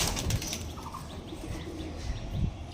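Pigeons coo softly in a small flock, with low, repeated murmuring calls mixed with light rustles and a flutter of wings, near and fairly quiet.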